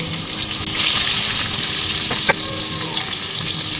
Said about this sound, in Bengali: আলু ভাজা তেলের মধ্যেই বেগুনগুলো ভেজে নেব